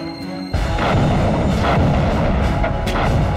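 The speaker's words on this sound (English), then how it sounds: "he unleashes a massive artillery barrage." Massive artillery barrage at El Alamein on an October night, with guns pounding continuously in a dense, loud, rolling roar of overlapping blasts that kicks in after a brief quieter moment and never lets up.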